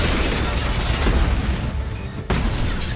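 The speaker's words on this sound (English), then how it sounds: "And I've just been hit by a rocket." A rocket explosion strikes the player in Mass Effect 2, a dense, loud, broadband blast roar filling the scene with a sharp fresh burst near the end, heard over constant game noise.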